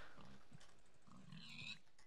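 A Minecraft pig oinks in a few low grunts, faint and short, over quiet game background.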